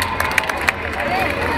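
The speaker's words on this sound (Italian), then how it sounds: "Lo accogliamo con un bel applauso" A roadside crowd claps and cheers as Giro d'Italia cyclists pass, with scattered sharp claps and a murmur of voices in a brief, close burst.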